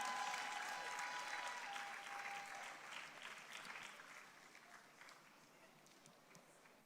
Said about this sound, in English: let's give a round of applause to the CEO of Charterhouse